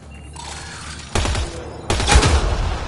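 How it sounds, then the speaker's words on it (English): In Mass Effect Andromeda, bursts of loud, close gunfire rise in two waves to destroy a Kett device. "Shooting the device will destroy it."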